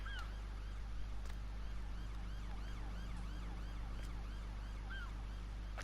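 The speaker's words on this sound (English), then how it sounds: "I don't know if there's a way to turn those police sirens off" Police sirens wail in a farming video game, steady and fairly close, layered over a constant low engine hum with no talking.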